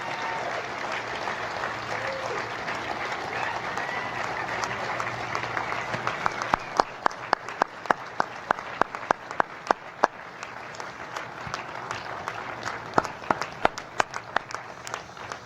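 An audience applauds to honor veteran crew members of the USS Intrepid, a broad wash of clapping that continues, with sharper individual claps standing out in the second half, somewhat distant and moderate in level.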